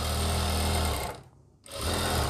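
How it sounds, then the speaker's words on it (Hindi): Sewing machine stitching the sleeve seam of a lined kameez, a steady loud mechanical whirr that stops briefly for about half a second, then resumes. "इसी निशान पर हम नीचे तक सिलाई लगाएंगे"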